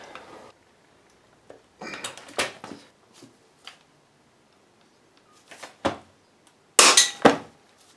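A Honda CB500 Scrambler's sprocket nut is worked loose while a screwdriver through the chain holds it still, producing scattered sharp metallic clanks and taps with quiet gaps between, loudest near the end.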